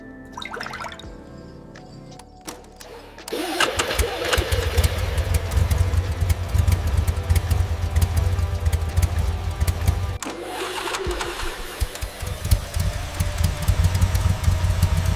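A restored 1973 Kawasaki Z1 motorcycle engine starts up after a few seconds of quiet handling, then settles into a loud, steady, close idle with a dense rumbling texture that holds to the end.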